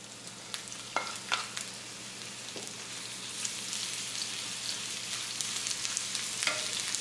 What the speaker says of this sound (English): let those cook down for a minute